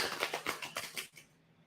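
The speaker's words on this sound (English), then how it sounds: "let me shuffle it really, really good for AK" A deck of tarot cards gets a brisk shuffle near an ancestor altar, giving a run of papery riffling snaps and flutters that end abruptly, fairly quiet and close, with no voices.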